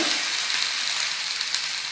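Ivy gourd (tondekayi) sautés in hot oil in a pan for a gojju, giving a dense, steady sizzle and crackle throughout, close and unbroken, with no voices.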